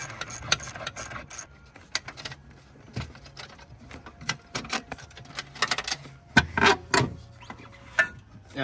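The plastic air filter box lid is worked loose and pulled out of a Toyota Land Cruiser 80 Series with scraping, rubbing and clicking handling noises, irregular and close, louder knocks near the end.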